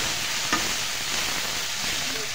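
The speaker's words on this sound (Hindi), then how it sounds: "प्याज हमारे अच्छी तरह से भून गए हैं" Onions sizzling and frying in a covered pan for a chicken masala, giving a steady broadband hiss with a faint clink partway through.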